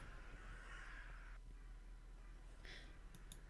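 Crows caw twice in the video game The Last Door, a faint hoarse call early and another short one near the end, distant over a steady low background hum.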